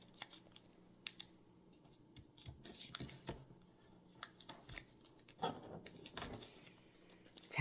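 Paper being creased and folded into an origami tulip, with soft rustles and crisp scraping rubs at irregular moments, close and fairly quiet, with no talk.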